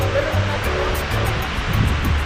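Sea waves surging on a shore as the tide rises, with a steady rushing wash and low rumble throughout, close and fairly loud, wind noise mixed in and faint voices underneath.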